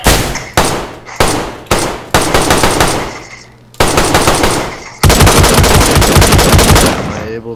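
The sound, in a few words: machine gun fire at a wall, from a video game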